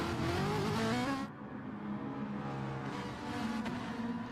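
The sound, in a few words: race car driving out at Red Bull Ring in a racing video game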